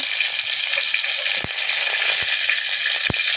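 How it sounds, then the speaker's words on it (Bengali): Green chili slices sizzle steadily in hot oil in a kadai, a close, continuous crackling hiss broken by a few sharp pops, with no voices. "এখানে কিন্তু কড়াইতে কিন্তু আমাদের আরও কিছু তেল আছে এবারের মধ্যে দিয়ে দেবো কয়েক টুকরো কাঁচামরিচ ফালি"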